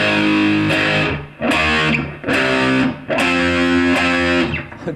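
A distorted electric guitar plays notes from a song as four heavy, sustained, fuzzy notes in a steady rhythm, loud and close, with no talking.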